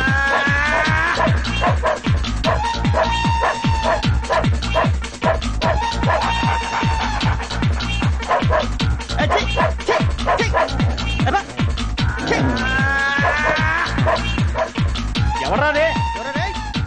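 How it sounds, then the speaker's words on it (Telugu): A dog barks and yips repeatedly in a Telugu comedy film scene, the barks sounding over a dense, busy background that may include voices. "అది నిజం కుక్క."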